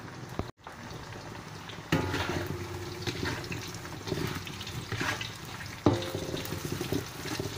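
Beef sizzles and crackles in a hot pan while frying for sambal daging goreng, a steady loud hiss of bubbling oil with a sharper burst of spattering partway through and no voices.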